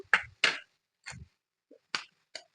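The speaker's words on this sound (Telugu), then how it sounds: "ఈ గుడ్లు ఇలా పగలగొట్టుకొని" Eggs cracked one after another into a thick, nearly cooked tomato egg curry, giving several short sharp cracks with brief gaps between them, close by and fairly faint, with no talk.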